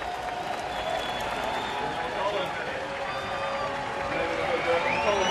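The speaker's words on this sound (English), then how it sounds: "The crowd responding because the announcement posted." Baseball stadium crowd applauding and cheering a scoreboard announcement for Dan Uggla, a broad, sustained roar of distant clapping with a commentator talking over it.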